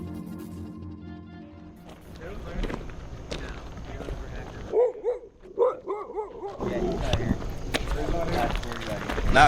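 Dogs bark and yip in short bursts over steady background talk and noise, the loudest barks clustered near the middle, during a bounty hunter pursuit in Ohio.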